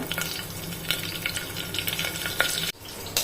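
Cumin, mustard seeds, asafoetida and curry leaves sizzle and crackle steadily in hot oil, with a dense spitting hiss and the scrape of stirring. It breaks off briefly near the end, and no one speaks.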